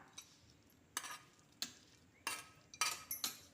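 Metal spatula scraping and stirring in an iron wok while sautéing for Tamil thavala adai, several separate bursts of scraping with quiet gaps between, food sizzling softly underneath.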